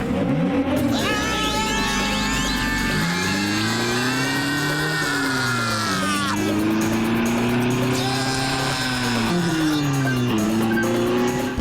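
A cartoon jeep's engine revs hard and climbs in pitch through repeated gear shifts, a loud, continuous whine with tire squeal layered over it.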